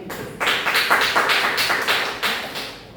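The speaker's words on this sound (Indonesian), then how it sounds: "Tepuk tangan untuk kelompok 2." Classroom applause for a student group, a dense run of hand claps lasting about two and a half seconds, loud and close, fading out at the end with no talking over it.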